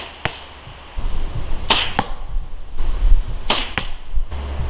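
Arrows are loosed from a bow at steel targets during 3-D archery, each a sharp twang and whoosh, followed by a distant impact, repeated a few times outdoors over low wind noise.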